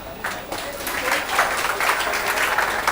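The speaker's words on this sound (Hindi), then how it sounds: "चलिए सब लोग जोरदार तालियां अपने लिए बजाओ" An audience at a coaching seminar claps loudly and steadily for about three seconds, a dense wash of many hands close by.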